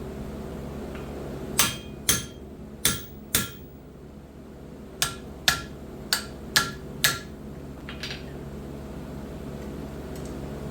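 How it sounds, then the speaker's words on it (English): Hammer striking a punch through hot iron while forging a rushlight: nine sharp metallic blows, close and loud, in two spaced runs over steady forge hum, with no talk. "just punch a couple of holes in it"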